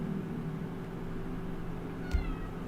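A single short cat meow rises briefly near the end inside the video game The Outer Worlds, faint over a steady low background hum.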